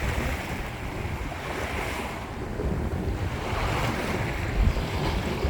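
Ocean surf at a beach washes in steadily, a broad, fairly soft rush mixed with wind buffeting the microphone, with no voices.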